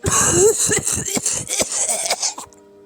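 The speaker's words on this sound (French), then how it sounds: "Corona essaya de reprendre son souffle, mais ne put que tousser" A narrator portraying a character called Corona struggles for breath and coughs, a run of harsh, repeated coughs with throaty rasps and a wheezy catch, close and loud, before cutting to near silence.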